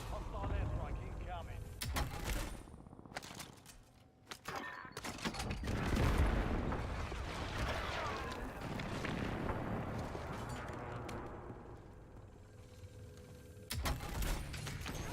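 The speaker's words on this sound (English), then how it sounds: "Hostile airstrike incoming." Airstrike explosions and gunfire in a video game battle, with dense rumbling blasts and bursts of firing that swell to a peak and then settle into a sustained roar, with voices talking over parts of it.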